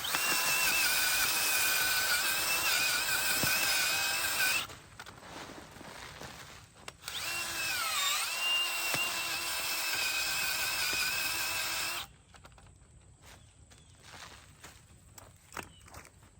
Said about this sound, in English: I'm just gonna drill a couple of these holes out just a little bit deeper